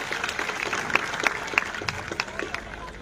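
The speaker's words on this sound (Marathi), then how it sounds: "टाळ्यांचा हात होऊन जाऊ दे।" An audience at a gathering for the founding of a Buddhist vihara claps in sustained applause, dense hand claps mixed with crowd murmur and a voice faintly underneath.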